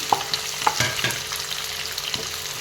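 Onions and whole spices, cloves, cardamom and cinnamon, hit hot oil in a kadai, giving a loud, continuous close-up sizzle and crackle with a few sharper pops near the start.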